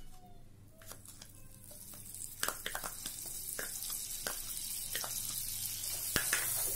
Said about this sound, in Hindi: अब इसमें एक चम्मच बटर डाल देंगे।